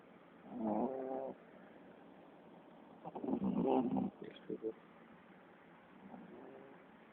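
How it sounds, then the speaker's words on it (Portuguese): A sleeping girl snores close by in a quiet room: a long, drawn-out, throaty snore, then a louder, rougher one a couple of seconds later, and a faint third at the end. "Estão ouvindo ela roncando?"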